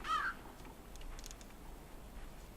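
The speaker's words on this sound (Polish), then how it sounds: "Kruk." A raven caws once in the Limbo video game, a short harsh call at the very start over a quiet ambient background, followed by faint scattered sounds.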